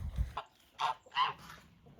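A flock of Muscovy ducks with ducklings on a Kentucky farm gives a few short, close honking calls in quick succession, fairly faint against a quiet background.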